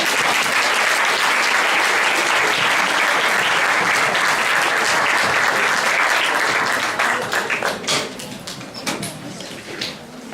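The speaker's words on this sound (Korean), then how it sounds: "오늘 연설해주신 손금철님께 또 한 번 박수를 보내주시기 바랍니다" An audience claps after a speech at a speech event, dense sustained applause for about seven seconds that then thins into scattered, louder individual claps as it dies away.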